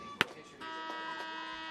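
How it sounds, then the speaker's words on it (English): A brief, loud electronic buzzer sounds once to end the first overtime period of a women's college soccer match between SMU and UCF, a short sharp tone standing out over steady crowd and arena noise. "There's the buzzer."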